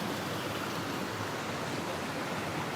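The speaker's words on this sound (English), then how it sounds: "And a cool sounding little waterfall there." A small waterfall splashing among wet, slick rocks outdoors, a steady, even broadband rush of falling water that stays constant and fairly close throughout, with no voices.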